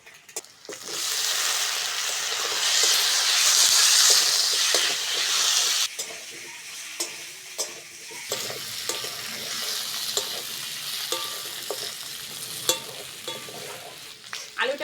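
Potatoes and chopped onions frying in oil in a pan, a steady loud sizzle with stirring scrapes, the hiss easing partway through into quieter crackling with occasional utensil clinks.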